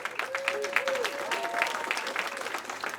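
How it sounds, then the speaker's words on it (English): Audience applause at the LIIFE 2025 Awards ceremony, steady dense clapping filling the room for a few seconds, with a faint tonal whistle-like sound and light voices mixed beneath. "Kevin deserves an extra round of applause"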